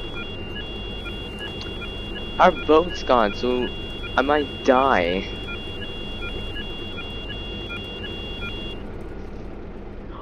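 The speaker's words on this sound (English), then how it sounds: "The alarm's going off because I set it off." Ship alarm in the game Stormworks, a steady repeating electronic beep tone sounding throughout while someone talks over it, the alarm cutting off near the end.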